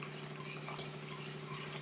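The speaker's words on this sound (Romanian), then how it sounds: "Amestecăm zahărul cu făina să nu facem cuculoașe și punem lapte, puțin câte puțin" A utensil stirs sugar and flour in a bowl as milk is added a little at a time, making a soft, steady scraping and swishing over a faint hum, with no talk.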